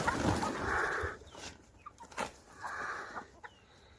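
Chickens cluck on a garden homestead in South Africa's Garden Route, a few close bursts of clucking separated by quieter gaps, with faint outdoor background noise.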